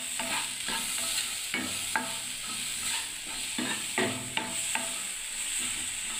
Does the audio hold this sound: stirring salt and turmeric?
yes